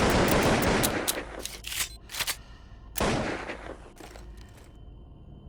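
Full-auto gunfire in the Zed Zone zombie survival game, a loud sustained burst of rapid shots up front, then a few shorter bursts and a single crack before fading into quieter clatter.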